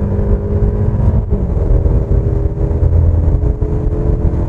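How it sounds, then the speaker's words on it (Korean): Mercedes E-Class or BMW 5 Series car accelerating hard in sport mode gives a loud, steady engine drone with road rumble from inside the cabin, continuous for several seconds. "고속주행으로서 스포츠 모드를 한번 해서 달려보도록 하겠습니다"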